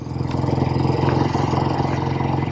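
A 1967 BSA Spitfire Special MkIII motorcycle engine runs close by at a steady idle, a rhythmic low thrum with no other sound.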